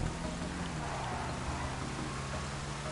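Rain falling during a stock-car style street racing video game, a steady, dense hiss that fills every moment without a break, with a low hum running underneath.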